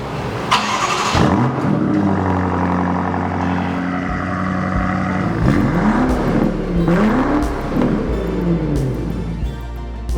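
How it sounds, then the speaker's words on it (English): A BMW X5 M V8 fitted with an Akrapovič titanium exhaust starts and revs hard, loud repeated sweeping blips rising and falling over a deep idle, close and alone. "Nothing sounds like a titanium exhaust."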